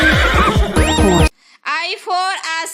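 Horse neighing in a children's ABC song, a loud whinny riding over music, then a second whinny heard clearly alone with strong harmonic calls.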